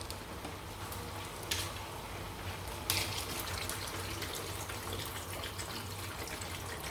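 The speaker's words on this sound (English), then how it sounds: "Then I will now add water." Steady rush of water poured continuously into a cooking pot of meat, with faint clinks, fairly close and without talk.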